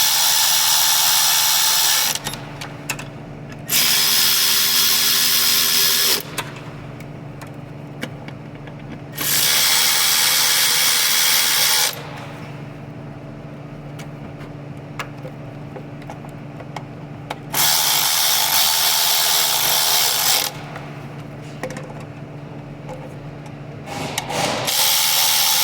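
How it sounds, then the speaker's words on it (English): Hand ratchet tightening five bolts on a Honda Odyssey during a timing belt job, rapid clicking in several separate bursts with pauses between, close and loud, no talking. "I'm going to take my ratchet, tighten down these 5 bolts"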